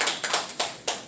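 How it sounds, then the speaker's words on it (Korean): A handful of separate, close claps from a church congregation, spaced irregularly over about a second, with no talk. "박수 한번."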